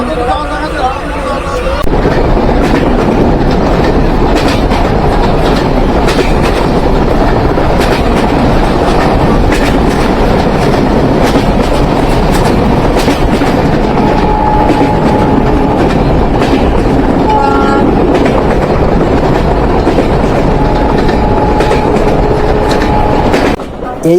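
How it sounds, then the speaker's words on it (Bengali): The Kapotakkho Express, running from Khulna to Rajshahi at about 90 km/h, gives a loud, continuous rumble and rattle heard from inside a carriage, with rhythmic clickety-clack of the wheels and passengers talking underneath. "কপোতাক্ষ এক্সপ্রেস ট্রেনের গতি দেখা যাচ্ছে নব্বই কিলোমিটার"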